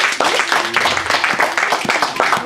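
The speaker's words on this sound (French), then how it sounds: "On acclame très fort le Seigneur." Church congregation clapping and acclaiming loudly during a French-language worship service, a dense sustained wash of applause with rhythmic claps running throughout.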